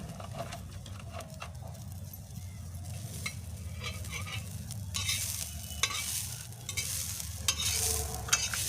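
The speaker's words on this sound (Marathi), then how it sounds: "हे तुरी सोले भाजून घेणार आहे, चांगले लाल मस्त भाजायचे" Fresh pigeon pea (tur) beans dry-roasting in a pan over a wood-fired chulha, with continuous scraping and stirring over a soft, steady sizzle that grows brighter and more crackly toward the end; no one talks.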